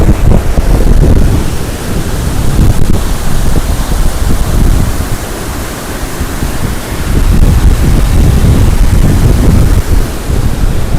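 Rain-swollen river water rushing past at speed, a loud, steady broadband roar with gusting wind buffeting the microphone throughout and no voices.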